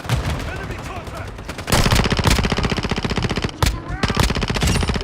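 Automatic gunfire in Modern Warfare II rattles in rapid close bursts, growing louder and denser partway through, with a few sharp single cracks mixed in and speech over the top.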